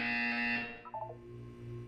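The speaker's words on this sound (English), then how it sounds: "You will hear a buzzer. When you hear the buzzer, look down at the floor." A harsh electronic buzzer from the Portal video game sounds loudly for under a second, then gives way to softer tones over a low background hum.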